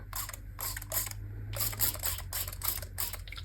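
A spray bottle spritzes liquid onto a tissue-box art journal in a quick series of about eight short hissing bursts, close and moderately loud, with a low hum underneath.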